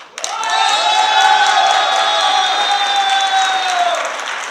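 Audience clapping at a Kangen business presentation in Delhi, a loud, sustained burst of applause with cheering and crowd noise that swells quickly and holds steady for several seconds before easing off.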